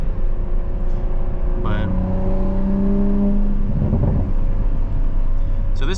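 A 500HP Supra in track mode revs hard, its engine droning loud and steady with a rising then falling tonal sweep. A brief voice cuts in over the close cabin roar.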